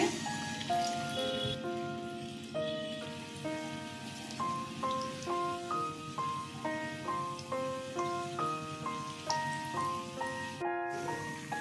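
A fresh batch of pumpkin and duck egg koftas sizzles in oil with a continuous patter of crackles beneath prominent background music.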